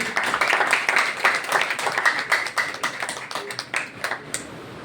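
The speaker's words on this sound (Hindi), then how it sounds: "ताली बजाएंगे इस बेटी के लिए।" Children in a classroom clap together for a girl, a dense, steady patter of many hands close by that carries on for several seconds with no talking.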